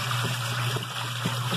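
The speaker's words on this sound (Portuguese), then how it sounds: "botar a mangueira para derrubar a água" Water pours steadily from a hose while laundry is rinsed at home, a continuous trickling and splashing wash with a low steady hum beneath, close and even throughout.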